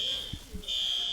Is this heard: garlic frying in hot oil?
no